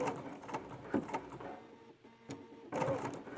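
A Bernina 71 sewing machine stitches quilt binding in quiet bursts of rapid mechanical whirring, pausing briefly before running again, close and soft.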